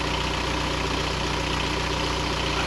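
A Volkswagen Vanagon van with a swapped TDI diesel engine idles steadily up close, giving a loud, even, rhythmic clatter with a faint knock and no voices.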